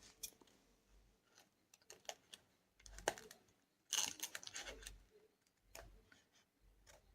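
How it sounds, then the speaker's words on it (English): Scissors snipping through the folded top flap of a brown paper bag, a series of short, close, crisp cuts and crinkles with pauses between them. "slightly fold the top flap of our bag and just slightly cut it"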